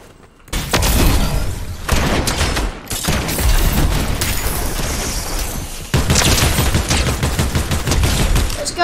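Gold hunting rifle fire in Fortnite, loud close bursts of gunfire in rapid dense volleys with brief gaps, heavy and continuous throughout.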